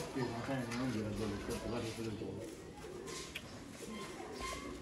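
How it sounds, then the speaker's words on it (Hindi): A female Sialkoti pigeon coos softly and repeatedly nearby while someone talks over it. "पहले नंबर पर मादा देखो दोस्तों, सियालकोटी कबूतर"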